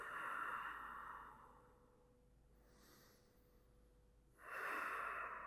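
Slow, deep breaths during a yoga class, a loud breathy exhale at the start, quieter breathing in the middle, then another strong close exhale near the end, with no talking.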